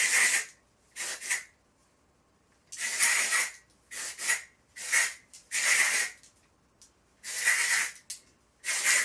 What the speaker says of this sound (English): take my texture spray and spray that near the root of my hair and my underlayers